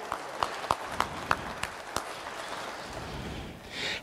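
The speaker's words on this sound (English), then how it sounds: "Now you can clap and say," Scattered claps ring out in a church service, a handful of sharp, separate hand strikes spaced irregularly over the first two seconds, then a quiet room with a faint swell near the end.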